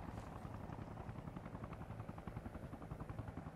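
A helicopter in the military game Arma Reforger sets down, its rotor beating in a steady, loud chop that carries throughout with no voices over it.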